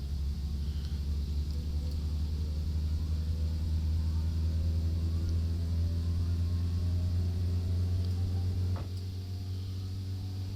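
A Satsuma car engine in the game My Summer Car drones steadily at low pitch in fourth gear on a dyno, slowly building revs with a constant rumble, then dips slightly near the end.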